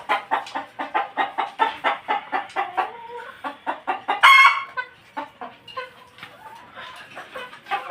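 Native desi chickens on a farm cluck in a quick, steady run of close, repeated calls, with one louder squawk midway before the clucking resumes more sparsely.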